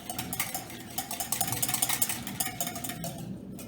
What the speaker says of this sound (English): So I'm going to whisk that together